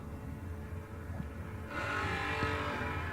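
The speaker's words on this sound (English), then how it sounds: "We have got ourselves a drag race." Drag race cars launch at a footbrake drag racing event, a steady engine drone jumping abruptly into a louder, broadband roar of acceleration that holds to the end.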